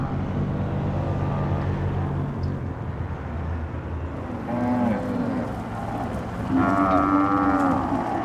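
Cattle bellow during a large roundup of about 2,000 head in Australia's Kimberley wilderness, several drawn-out moos from different animals rising over a constant low rumble of engines and herd noise.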